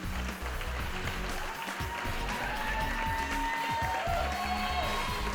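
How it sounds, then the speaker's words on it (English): Audience clapping and cheering for competitors at a Canadian fitness and bodybuilding championship, a steady broadband wash of applause that carries through the whole stretch with faint crowd voices mixed in. "how about a big round of applause for all our competitors as they make their way"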